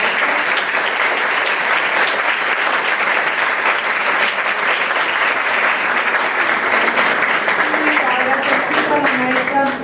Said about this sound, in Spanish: Le agradecemos mucho al doctor su trabajo, le damos un fuerte aplauso.